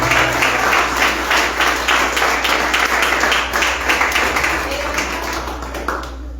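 A church congregation claps together loudly for several seconds, the sharp claps falling into a rough rhythm over a constant low hum, then tapering off at the end.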